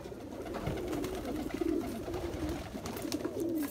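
Nagpuri Gire Baaz pigeons in a cage coo continuously in soft low rolling calls, steady and close, with no talking.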